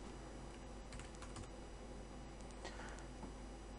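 Typing on a computer keyboard in a Reaper audio editor actions panel: short bursts of quick, close keystrokes in two runs over a steady background hiss, with no speech.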